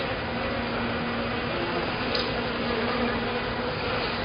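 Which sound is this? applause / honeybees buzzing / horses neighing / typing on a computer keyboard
honeybees buzzing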